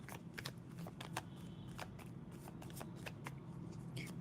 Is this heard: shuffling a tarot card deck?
yes